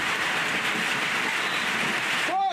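Heavy rain pours steadily over a mortar crew's muddy position, a dense, continuous hiss filling the whole stretch at close range with no speech.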